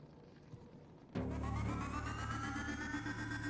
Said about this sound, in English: And that is the sound of Horatio's shield powering up